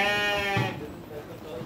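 A sheep bleats once with a wavering, harmonic cry, close by, followed by quieter rustling and faint background noise.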